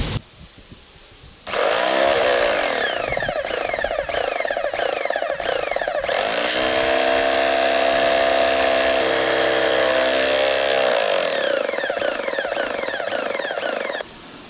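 An Oleo-Mac PW 110 C high-pressure washer, just fitted with a new pump repair kit, starts up with a loud, close electric whine and buzzing motor. It runs steadily for about twelve seconds, its pitch shifting midway, then shuts off.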